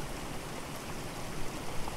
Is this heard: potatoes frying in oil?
no